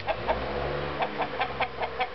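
A couple of roosters at an abandoned building give a quick series of short, close clucks, evenly spaced with no talk.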